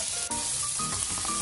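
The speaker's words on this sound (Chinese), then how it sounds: "接着用同一个锅子把豆腐丝倒进去煎" Shredded tofu frying in oil in a pan, a close, continuous sizzle with faint stirring scrapes mixed in.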